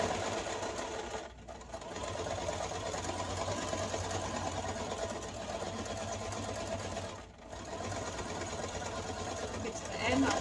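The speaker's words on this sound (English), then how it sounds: "Now I'm going to stitch around my circle." A home sewing machine runs steadily while stitching around a fabric circle on a cap, with a continuous whirring buzz that briefly stops twice; quiet talk is heard.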